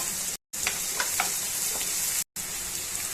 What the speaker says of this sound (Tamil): கருவேப்பிலை சேர்த்து நல்லா வதக்கிக்கலாம்.